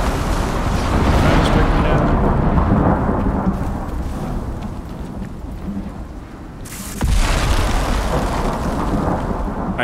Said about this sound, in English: Let's see if we can get struck by lightning.